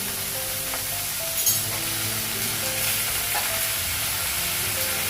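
Cumin and ginger paste frying in a pan, a steady close hiss of sizzling oil with faint scraping stirs, continuous throughout without talk.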